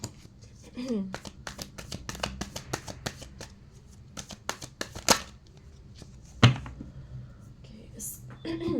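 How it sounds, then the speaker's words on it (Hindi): A tarot card deck being shuffled by hand, a rapid series of crisp riffling flicks and slaps in bursts with brief pauses, close and fairly loud, with a soft voice murmuring at moments. "मैं लाइव टैरो शफल करना पसंद करती हूँ"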